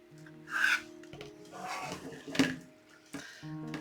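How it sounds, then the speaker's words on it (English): Pipe cleaners twisted around the metal bars of a wreath form for a deco mesh Easter wreath, giving close soft rasping and rubbing strokes in a few short bursts, with faint metallic scrapes between them. "So just wrap those pipe cleaners around the 2 bars, pull together nice and snug, and give a twist."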